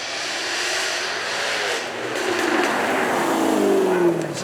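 A supercharged 5-litre V8 Jaguar F-Type at the Beaulieu Supercar Weekend 2024 revs loudly and close by, its note sweeping upward in a sustained, rising roar.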